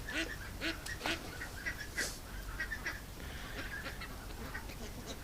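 A farm-raised duck quacks in short, soft bursts against steady outdoor background noise. The calls are faint and fairly distant, with no one speaking.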